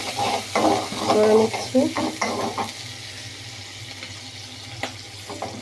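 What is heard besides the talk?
onion frying and sizzling in a pan on the stove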